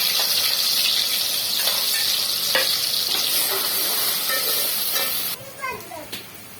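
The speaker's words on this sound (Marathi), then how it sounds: "कांदा आपला छानपैकी तेलात फ्राय झालेला आहे" Onion paste frying in oil for a soya chunk biryani, a steady bright sizzle with occasional stirring scrapes, settling down toward the end.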